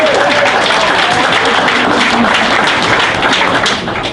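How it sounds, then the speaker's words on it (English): Loud, full crowd applause at an arts event in North Omaha, a dense continuous roar of clapping close by that holds steady and eases slightly at the end. "Give yourself a big round of applause."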